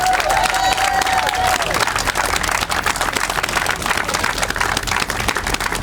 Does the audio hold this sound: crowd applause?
yes